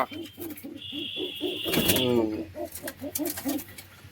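Caged pigeons at a pigeon seller's loft, including rock pigeons, coo in a steady rhythmic series of low pulses, close and clear, interrupted midway by a sharp whistle-like tone and scraping, then resuming.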